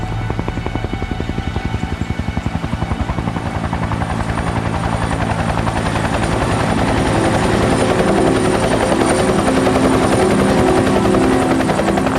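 A helicopter's rotor chops loudly and steadily overhead, a rapid rhythmic thudding with engine whine that keeps growing slightly stronger, and no voices.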